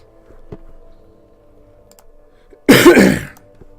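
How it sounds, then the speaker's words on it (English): A single loud, harsh cough bursts out close to the microphone after near silence, lasting under a second. "I apologize for that loud cough."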